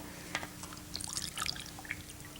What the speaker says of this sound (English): And I'll add the water here.